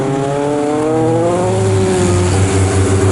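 750MC Sport Specials race cars lapping Snetterton circuit, a loud nearby engine whine climbing in pitch as a car accelerates, harsh and continuous with layered harmonics, no talk.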